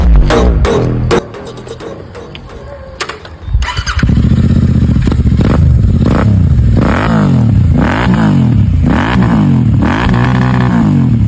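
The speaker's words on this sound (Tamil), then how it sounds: "இது இந்தோனேஷியாவோட ஃபேமஸ் பிராண்ட் ஒர்ஃபாமி எக்ஸாஸ்ட்" A motorcycle fitted with an imported Indonesian Norifumi exhaust silencer starts with a few clattering cranks, then idles loudly and revs repeatedly in rising and falling sweeps, close and alone.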